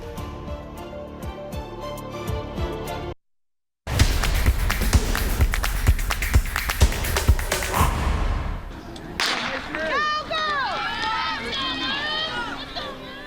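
A starter pistol fires at the 78th West Texas Relays track meet: one sharp crack bursts in after a moment of silence, followed by busy crowd noise and music in an outdoor stadium.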